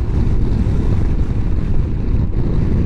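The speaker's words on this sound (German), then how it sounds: "Der Wind, der trägt richtig den Helm. Das ist Wahnsinn." Strong wind buffets a motorcycle helmet at Autobahn speed, a loud, steady, low-heavy roar that fills the whole stretch without a break and with no talking.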